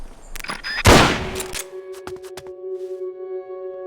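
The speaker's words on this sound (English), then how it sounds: "You hear that? Gunshots! We're being shot at." A burst of gunfire in Metal Gear Solid Peace Walker erupts with a loud, broadband crack, followed by a few sharp single shots and a lingering electronic tone.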